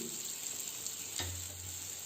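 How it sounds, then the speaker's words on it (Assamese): Spice paste sizzles steadily in a pan with cooked tomatoes for a swamp eel gravy, a close, even frying hiss that continues for the whole stretch with no talking. "গোটেইখিনিকে এতিয়া মই অলপ দেৰিৰ কাৰণে ভাজি ল'ম"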